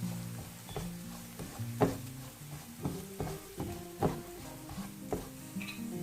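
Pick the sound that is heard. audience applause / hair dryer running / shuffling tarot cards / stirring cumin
stirring cumin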